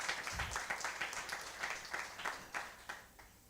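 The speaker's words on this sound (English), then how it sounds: "you can give a round of applause." Audience applause at a strategic thinking workshop and expo, a steady run of many hands clapping close together for a few seconds, fading slightly near the end.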